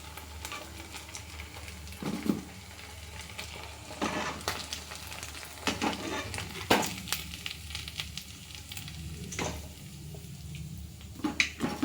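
Rice vadas deep-frying in hot oil, a soft, steady bubbling sizzle with occasional clinks and scrapes of a utensil, fairly quiet, and no voices.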